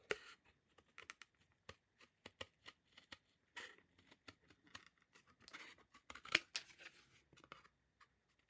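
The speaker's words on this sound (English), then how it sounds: "So you can kind of tilt your scissors upward to get around that curve" Scissors snip through fabric while the blade is turned to follow a curve on a needlebook, a series of short, quiet, crisp cuts at an irregular pace, close up with no talking.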